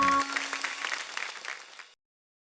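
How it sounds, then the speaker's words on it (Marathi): Audience applause for a women's group performance on a Marathi TV show, a dense burst of clapping that fades out after about two seconds, with a brief voice at the start. "एकदा जोरदार टाळ्या आपल्या 16 सख्यांच्या ह्या कार्यक्रमासाठी झाल्या पाहिजे"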